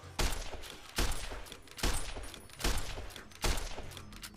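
Gunfire in Fallout New Vegas, five separate loud shots spaced about a second apart, each with a sharp attack and a short ringing decay, with no talking over them.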